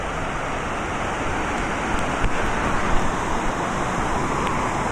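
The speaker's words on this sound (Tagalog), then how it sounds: "Waterfall!" Waterfall at Mother Falls in Baler, Aurora, a steady broadband roar of falling water close by, continuous and loud throughout with no talk.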